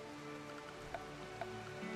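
Steady rain falls in the video game RimWorld's Wild West setting, a dense continuous patter with a few louder drips standing out, close and even, with no voices.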